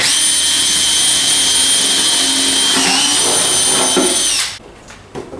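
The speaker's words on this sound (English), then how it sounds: "and then we're going to drill the holes" A high-pitched power drill whines steadily and loudly up close while drilling holes in a go-kart seat, its pitch dipping slightly under load before cutting off abruptly near the end.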